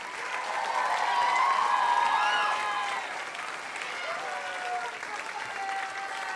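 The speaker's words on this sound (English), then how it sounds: "Keep that round of applause going for Delaware" Sustained applause from a pageant crowd fills a large hall, thick continuous clapping that eases slightly partway through, with faint cheering mixed in.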